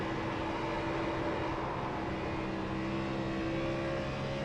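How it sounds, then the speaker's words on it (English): Race car engine in the iRacing simulator, a steady loud droning roar held at high revs throughout, with no talk. "Oh, that engine note. Listen to that friggin' thing purr."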